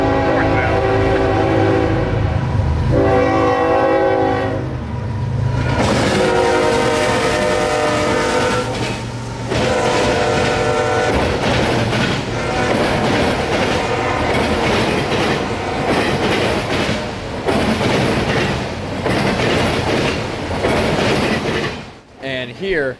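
A CSX freight train rolls past near Plant City, loud and close, its horn sounding in long blasts over the rumble and clatter of cars before the noise cuts off near the end.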